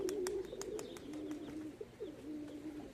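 Young pigeons on a roof coo softly in low, rolling murmurs, with a few sharp clicks or taps mixed in, fairly quiet.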